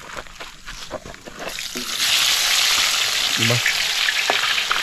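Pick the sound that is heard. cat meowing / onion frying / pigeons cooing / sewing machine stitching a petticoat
onion frying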